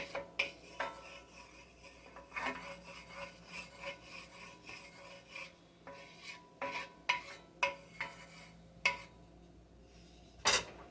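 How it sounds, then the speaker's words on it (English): Oil spread around a skillet with onion, heard as repeated scraping and rubbing strokes of a utensil against the pan, soft to moderate and fairly close, with a brief sharper clink near the end and no voices. "I'm going to move this oil around just a little bit, kind of coat the skillet a little bit."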